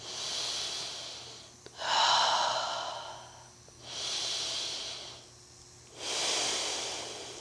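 Slow, deep breaths during a gentle yoga stretch, three long audible inhale-exhale swells close to the microphone, each rising and fading smoothly in a quiet room.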